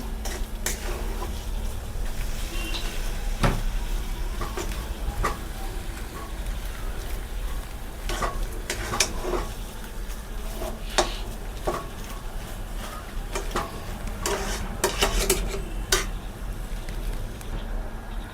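Spiced kachori filling with chana masala and a spoonful of salt is lightly stirred in a pan, with a steady low hiss broken by scattered clinks and scrapes of the spoon against the metal.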